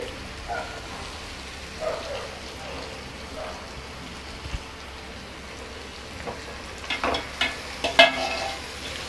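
An egg fry with onion and plenty of coriander is stirred in a pan, a soft sizzling hiss with scraping and clinking strokes that grow busier toward the end, close by and fairly quiet.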